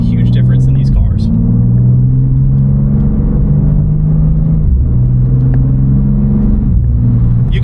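A BMW G87 M2 engine drones loudly with a low rumble, its pitch dropping and resetting several times as gears shift quickly, with a voice talking over it.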